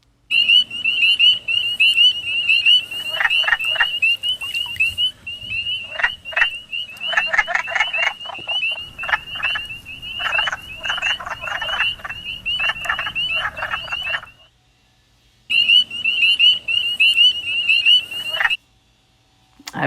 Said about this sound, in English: I heard wood frogs and spring peepers.